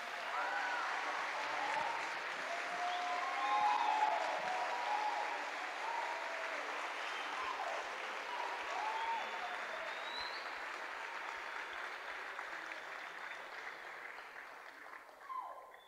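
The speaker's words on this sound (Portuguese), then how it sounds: "Você pode dar uma salva de palmas para esse amor de Jesus?" Congregation applauding at a church service after a pastor's call to clap, steady dense clapping for about sixteen seconds with a few cheers and whoops mixed in, slowly thinning at the end.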